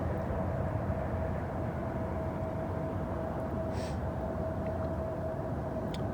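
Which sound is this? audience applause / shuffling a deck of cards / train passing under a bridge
train passing under a bridge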